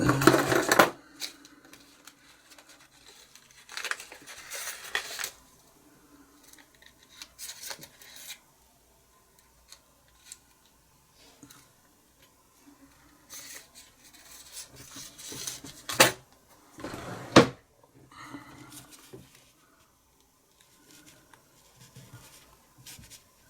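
Plugged flint being knocked out of a Flaminaire F12 pipe lighter: irregular bursts of small scraping, tapping and rasping metal-on-plastic sounds, close up, separated by quiet gaps.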